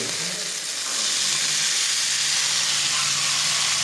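Cumin and mustard seeds crackle and sizzle in hot oil for a tadka, a steady bright frying hiss close by that swells slightly after the first second and holds, with no talking.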